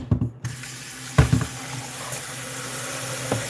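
Water runs steadily from a kitchen tap in a close, continuous hiss after a couple of brief clunks at the start, with no voices.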